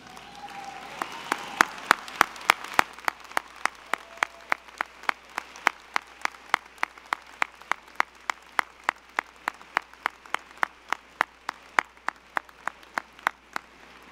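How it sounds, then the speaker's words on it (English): Graduates at a North Central College commencement applaud their families, a crowd clapping at close range for about fourteen seconds, with sharp individual claps standing out in a steady rhythm above the mass of applause as it gradually thins. "join me in thanking your families with a round of applause"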